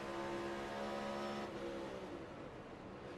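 A NASCAR Cup Series race car at the Goodyear 400, its engine a steady high-pitched drone that holds loud and close, then fades into broadband roar as it moves off.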